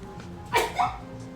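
A single quick sneeze, short and sharp with a brief second burst, close by in a quiet room.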